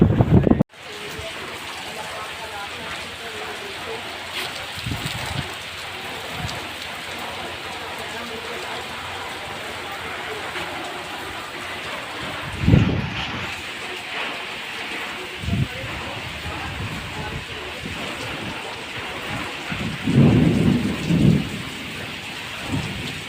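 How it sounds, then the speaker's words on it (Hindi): Steady rain pours down throughout, with low rumbles of thunder rolling in now and then, including a louder burst near the end. "ये देखिए बारिश हो रही है"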